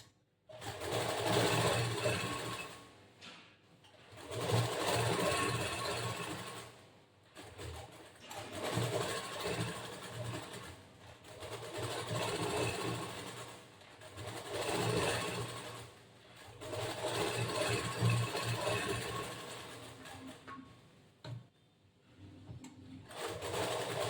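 A sewing machine stitches lining onto blouse fabric for a boat-neck blouse in repeated runs of steady whirring, each lasting a few seconds. Short pauses separate the runs, and the sound stays close and fairly loud throughout.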